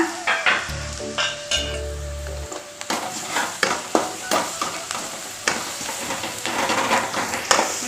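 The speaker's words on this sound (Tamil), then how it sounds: "வெங்காயம் நல்லா வதங்கிச்சு நம்ம இஞ்சி பூண்டு பேஸ்ட் சேர்த்துக்கலாங்க" Onions with ginger garlic paste sizzle and fry in a pan as they are stirred, a close, steady crackle with scraping of the spoon, plus a brief low hum near the start.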